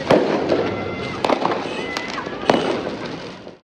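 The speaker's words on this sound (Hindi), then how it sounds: "Oh, there is fireworks." Diwali fireworks bursting outdoors in Dubai, with sharp cracks and pops at irregular intervals over a continuous crackling, rumbling background, moderately loud and somewhat distant.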